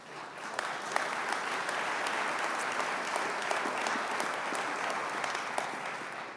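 Sustained applause from a large audience during a New Jersey governor's State of the State address, a steady even roar of clapping with sharp individual claps standing out.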